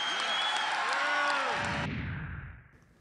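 Crowd at an Obama political speech applauding and cheering loudly for about two seconds, then fading away quickly.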